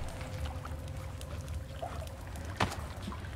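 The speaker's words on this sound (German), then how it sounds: "Ist aber auch schon psycho, dieses Wasser noch zu hören und so." Flowing water inside a cave in The Forest, a soft steady trickle and pour underneath, faint and distant, with a brief sharper splash or knock near the end.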